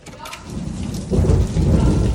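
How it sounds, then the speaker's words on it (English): A thunderstorm with steady rain pattering on surfaces, then a deep, loud thunderclap rolls in about halfway through and keeps rumbling heavily under the rain to the end. "There's going to be a big, loud thunderclap in a minute."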